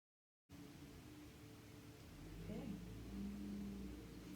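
An engine idles and then revs up, rising in pitch and loudness, a steady mechanical hum with a whirring undertone.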